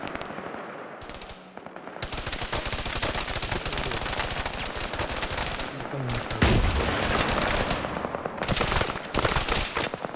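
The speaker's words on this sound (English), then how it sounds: "So tanks are firing up on this position." Tanks fire in a player-versus-player war video game, with dense rapid bursts of gunfire and heavy blasts rolling almost continuously, loud and close, with brief lulls between volleys.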